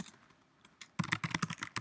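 Code being typed on a computer keyboard: a soft tap or two, then a quick close run of crisp keystrokes in an uneven rhythm, with no talking over them.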